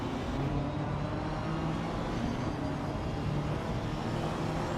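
BMW GT3 race car engine droning steadily at Spa in a sim race, a dense, continuous mechanical roar at constant loudness with no voices.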